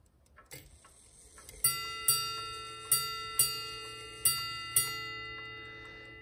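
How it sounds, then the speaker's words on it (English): A restored Chelsea ship's strike clock ticks softly, then rings a series of clear bell strikes in pairs, each ding ringing out and fading, close and alone in a quiet room. "And so every double ding indicates 1 hour."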